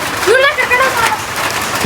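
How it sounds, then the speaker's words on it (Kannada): Heavy rain pours down steadily, a constant broadband hiss filling the background while someone speaks over it close by. "ಫುಲ್ ಮಳೆ ನೋಡು, ಫುಲ್ ಮಳೆ."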